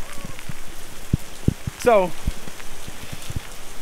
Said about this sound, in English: It's really raining, isn't it?